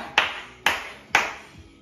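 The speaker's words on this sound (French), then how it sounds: "Et tu peux t'applaudir bien fort." Three separate hand claps, spaced about half a second apart, ring out sharply after a leg-slimming exercise session.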